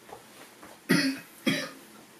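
Two sharp coughs about half a second apart, close and fairly loud, with quiet room tone around them.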